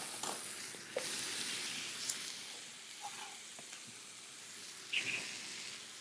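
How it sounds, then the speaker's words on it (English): Onions sizzle alongside chorizo in a pan, a quiet, steady hiss with a few faint stirring scrapes and small pops rising now and then. "I'm going to add the onions into the middle."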